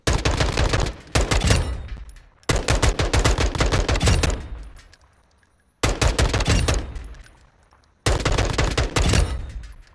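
Gunfire from the video game Warzone 2, loud sustained bursts of rapid automatic fire in four strings separated by short pauses and decaying tails, with no talking.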